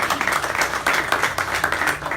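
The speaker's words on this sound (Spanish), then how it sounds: "Otro aplauso." An audience applauds at a club gathering about a constitutional process, with steady, dense clapping from a roomful of people throughout the short stretch.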